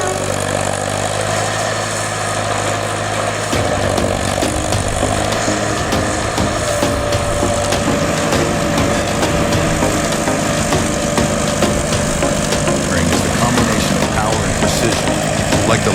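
A Peterson 5710D wood chipper powered by a 150 horsepower Cat Tier 4i engine runs loud and steady, a dense continuous engine roar and grinding drone with a slight shift in pitch partway through.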